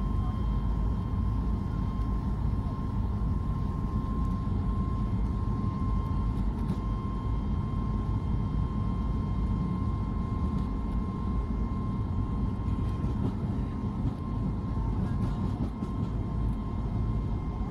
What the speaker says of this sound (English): And here we go, running down the runway.